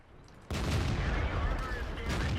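Tank cannon fire in World of Tanks: one sudden, heavy blast that stays loud and roaring for the rest of the moment, with a faint quiet lead-in before it.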